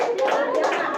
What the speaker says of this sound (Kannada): ನಿದ್ದೆ ಮಾಡೋರೆಲ್ಲ ಗಟ್ಟಿಗೆ ಚಪ್ಪಾಳೆ ಹೊಡ್ರಿ ಒಂದ್ಸರಿ